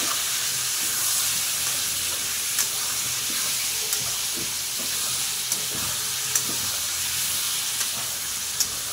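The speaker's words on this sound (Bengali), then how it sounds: "চিকেনগুলোকে দিয়ে সুন্দর করে একটু" Chicken pieces fry in a pan with a steady, broadband sizzle throughout, dotted with small pops and occasional stirring scrapes, close and fairly loud with no talking.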